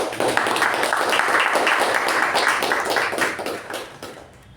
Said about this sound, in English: for a job well done, can we have a good round of applause?